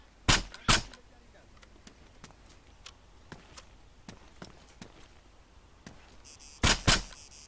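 Two pairs of sharp rifle shots in Arma 3, one pair at the start and another near the end, with faint scattered clicks and steps in between.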